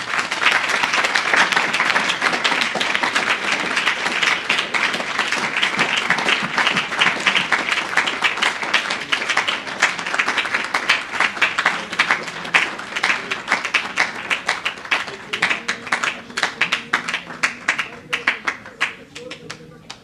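A church congregation claps in a sustained, dense wave of applause that stays loud before thinning into scattered, rhythmic claps near the end, with voices faintly audible underneath.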